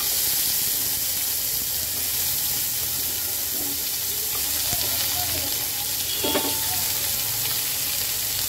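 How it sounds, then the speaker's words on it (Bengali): Potatoes and crab claws fry in hot oil with cumin and bay leaf, a constant close sizzle with faint clinks and light stirring throughout, no clear talk. "আগে তেলের মধ্যে কয়েক মিনিট ভেজে নেব"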